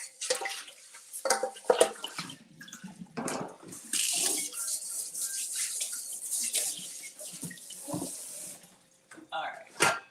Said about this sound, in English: let's wash out the basin or this mixer bowl